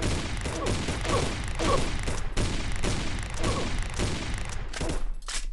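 Rapid gunfire from weapons in the mobile shooter Pixel Gun 3D, a dense, continuous fusillade of overlapping shots and thumps running loud throughout with no talk.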